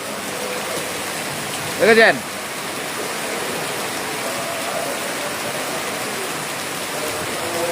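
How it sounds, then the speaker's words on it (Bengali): Heavy rain pours down in a steady, dense hiss that fills the scene throughout, while a brief spoken word cuts in near the start over the downpour. "সেইভাবেই বৃষ্টি হচ্ছে"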